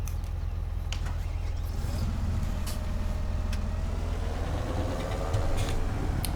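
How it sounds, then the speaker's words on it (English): Steady low diesel drone of a CLAAS ARION tractor in Farming Simulator 2017, a continuous engine hum that swells slightly near the end, with a faint voice in the background. "the first job is to do some fertilising using this CLAAS, what is it, an ARION?"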